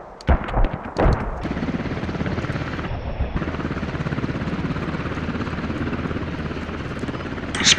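A Black Hawk helicopter in the military game Squad, its loud, continuous rotor and engine drone running close by, with a few sharp gunshot-like cracks at the start and again at the very end.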